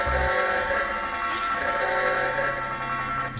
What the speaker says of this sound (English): It's just the alarm trap is so annoying.